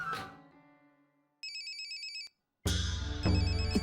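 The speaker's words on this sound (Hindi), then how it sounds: "इतनी रात गए किसका फोन हो सकता है?" A telephone rings late at night in a quiet home, a loud, bright electronic ring repeating in two bursts with a short silent gap between, preceded by a faint fading tone.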